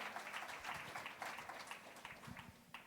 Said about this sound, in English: can we give a round of applause for an amazing sibling panel who's going to share?